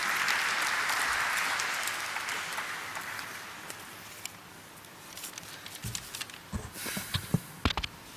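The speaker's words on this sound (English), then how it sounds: "Please join us in welcoming him with a huge round of applause." Applause from a crowd at a stock listing ceremony swells at the start and gradually fades, giving way to scattered claps, shuffling and a few louder thumps near the end.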